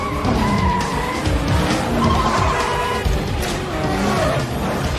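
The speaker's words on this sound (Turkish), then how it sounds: "o kadar savruluyor ki araba" A rear-wheel-drive car's engine roars while its tires squeal and the rear slides out through a turn, the skid sustained and loud, with rising and falling engine pitch.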